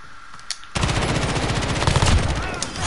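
Rapid automatic fire from the M13 rifle in the video game Modern Warfare, a dense sustained burst starting abruptly and continuing loud and close to the end, after a brief quieter lead-in.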